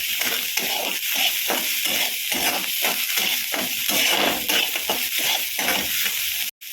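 Onions fry loudly in a pan, a continuous close sizzle broken by regular scraping stirs, then a sudden cut at the end.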